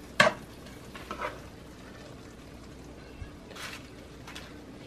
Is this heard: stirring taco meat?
yes